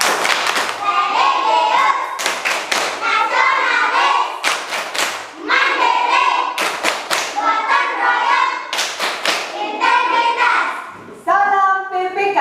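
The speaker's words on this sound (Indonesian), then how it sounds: "Tepuk pipi, Kak." Children in a primary school classroom perform a rhythmic cheek-patting routine, bursts of slapping and patting pulses in repeated rounds, loud and close, with children's voices chanting along between the beats.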